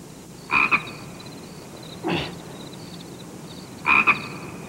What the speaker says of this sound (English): I guess that is a frog